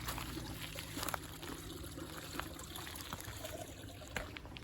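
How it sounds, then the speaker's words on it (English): Steady, quiet trickling of a flowing stream on a Connecticut hiking trail, a continuous soft wash with small splashy bursts, no voices. "I want to listen to the water"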